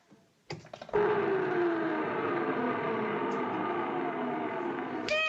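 A household refrigerator starts with a couple of sharp plug clicks, then its motor hums at a steady level, a low tone gliding slightly in pitch, before another click near the end as it is unplugged.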